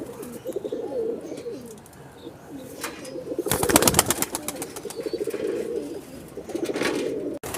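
A young golden high-flying pigeon coos in soft rolling bursts, close and fairly quiet, with some wing flaps or handling sounds in the middle and no talking.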